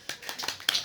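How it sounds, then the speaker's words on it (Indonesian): A few quick hand claps from a small audience at a student organization's sharing session, soft and brief. "Tepuk tangan semuanya."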